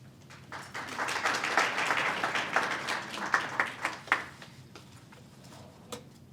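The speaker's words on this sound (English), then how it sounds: "You don't have to clap for me." Audience applause after a speaker is introduced at a candidate training event in Arizona, a dense crowd clapping that swells, then thins into a few scattered separate claps before dying away.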